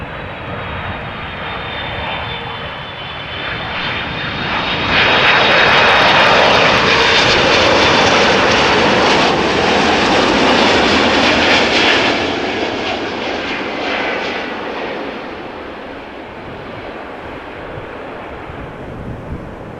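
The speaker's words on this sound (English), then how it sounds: "Airbus A330-300 arriving from Detroit" An Airbus A330-300 landing at Amsterdam Schiphol Airport roars past, a broad jet-engine rush that swells loud in the middle and fades, with some wind buffeting the microphone and no voices.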